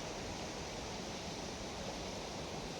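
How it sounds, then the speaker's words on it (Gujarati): Water rushes along a small village river swollen after rain, a steady, dense broadband roar like a stream or small waterfall, continuous and fairly close with no talking. "જુઓ કેટલું પાણી આવ્યું છે અમારે નદીમાં."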